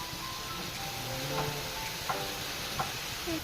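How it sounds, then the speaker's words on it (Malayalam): Ground paste goes into ridge gourd cooking in a pan, with a constant soft sizzle and a few light taps and scrapes of a spoon as it is mixed in. "നമുക്കിനി ഈ അരപ്പ് അതിനകത്തേക്ക് ഇട്ട് കൊടുക്കാം."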